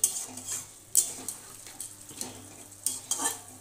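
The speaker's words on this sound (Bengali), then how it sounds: "এটাকে এখন একটু মিশিয়ে দেবো, জলটা দিয়েছি তো একটু মিশিয়ে দিয়ে" A spoon works through a watery mourola fish curry mixture in a pan, making a few sharp metallic clinks against the pan over a low background sizzle, close up and without speech.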